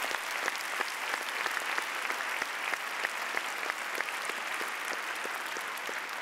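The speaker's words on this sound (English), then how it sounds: "Give all those shortlisted a big round of applause" An audience applauds the shortlisted schools at an oration event, a steady wash of many hands clapping throughout with no voices over it.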